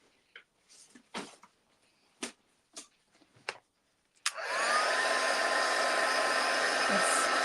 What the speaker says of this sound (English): I'm going to emboss it with my heat tool, which means I'm going to cook it